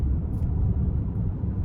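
A 2024 Chevrolet Blazer EV RS AWD pulling hard at full throttle, heard from inside as a steady, dense low rumble of road and tire noise with a faint whine, loud and continuous with no talking.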